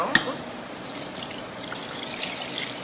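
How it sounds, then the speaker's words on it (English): Broth is poured slowly into a roux in a pan for beef stew, making a soft, steady trickle heard close up after a sharp click at the start. "we're going to start by pouring it slowly so it doesn't clump up with our roux"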